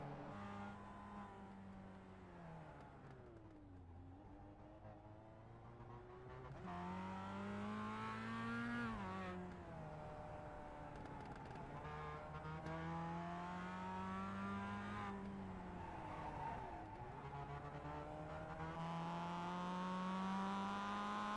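A race car in the iRacing game lapping the Long Beach street circuit, its engine droning continuously and rising and falling in pitch through repeated upshifts and braking for corners, moderately loud and without talk.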